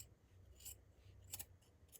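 Scissors snip through fabric for a patchwork hoodie, three or four short, crisp cuts spaced apart over a quiet low hum, close up and with no speech.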